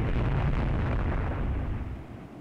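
A loud, booming naval gunfire explosion in the naval warfare game Rule the Waves 2, a single deep blast that rumbles and slowly fades over a couple of seconds.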